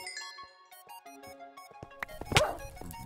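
Dogs bark in a video game, short yelps and barks scattered over tonal game music and effects, with a louder burst of barking near the end.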